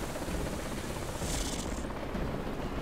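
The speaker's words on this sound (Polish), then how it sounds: "Przyleciał śmigłowiec." A helicopter arrives in the Dark Sector video game, a distant steady rotor rumble under a faint, low background wash.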